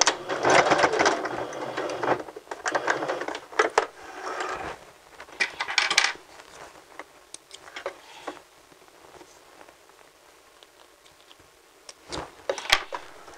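A sewing machine runs a zigzag seam on fabric lying flat and then back stitches, giving bursts of rapid mechanical ticking and whirring with pauses between runs, close and fairly loud.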